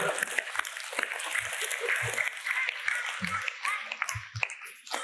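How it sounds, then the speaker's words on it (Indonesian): Churchgoers at a Sunday Mass homily clap in a brisk, scattered patter, with voices and a few chuckles mixed into the applause. "Tepuk tangan dong."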